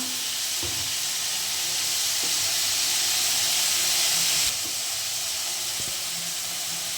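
Onions soften in hot oil for a crab fry masala, producing a loud, continuous hissing sizzle with a few soft stirring knocks. The sizzle swells slightly midway and then settles back to an even hiss.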